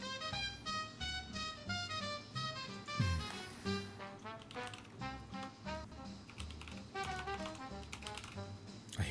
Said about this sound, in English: I hate typing like this.